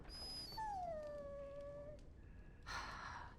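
A dog in the Dragon Age: Origins video game lets out a long, drawn-out whimpering howl that falls in pitch, then gives a short breathy huff, close and alone.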